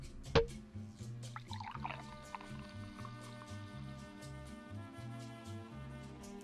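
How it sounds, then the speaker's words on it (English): Champagne poured into a glass, a brief sharp splash then a fizzing trickle, close and moderately loud beneath a bed of soft music. "Pour me some champagne"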